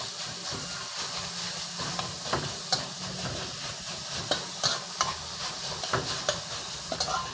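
Minced pork and chili are dry stir-fried in a pan for a Thai holy basil stir-fry. A dense continuous sizzle and hiss runs under repeated quick scraping strokes, close up and without talk.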